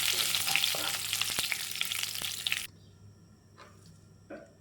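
Curry leaves and urad dal fry in hot oil for upma, a dense close sizzle that cuts off abruptly, leaving quiet with a couple of faint clinks.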